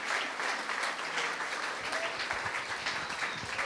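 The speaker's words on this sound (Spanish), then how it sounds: "No sé si quieren darle un aplauso de gratitud." A church congregation gives a round of applause of gratitude, steady and even clapping from many hands held at constant strength throughout.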